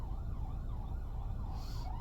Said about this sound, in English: The freaking sirens distracted me.